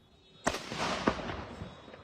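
Explosions erupting across Puerto Vallarta: two sharp distant blasts about half a second apart, each trailing into a long rumbling echo, faint and without talk.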